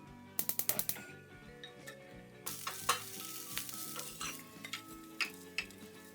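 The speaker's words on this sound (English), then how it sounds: "now we're gonna saute the veggies we just cut" Chopped vegetables, kale among them, sauteed in a pan, a steady sizzle under repeated stirring and scraping clinks, with a quick burst of sharp utensil taps near the start.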